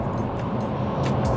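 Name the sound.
diesel Vauxhall Insignia Grand Sport driving at speed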